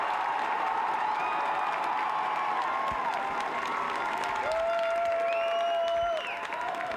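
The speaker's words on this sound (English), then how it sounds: "as long as those Newcastle United fans keep providing that cheer" Newcastle United fans in a stadium crowd at a women's FA Cup match against Manchester United, a steady loud roar of cheering and applause with whistles rising above it.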